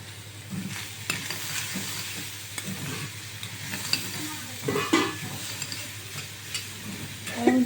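Chicken frying with onion, capsicum and a little salt, a steady close sizzle broken by intermittent stirring and scraping in the pan, with a few sharper clinks near the end.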